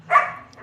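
A single dog, a female, gives one loud, close bark that fades out, and a faint shorter sound follows it, all inside a room during an evening live broadcast.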